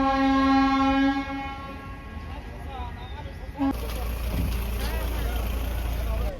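A train at Barabhum station in Purulia sounds a loud, sustained horn, then the heavy rumbling roar of the passing train continues close by.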